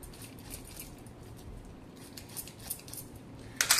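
A knife cutting through the mouth end of a scaled fish during cleaning, with faint repeated snipping and crunching strokes ending in a louder, sharper crunch, no talk.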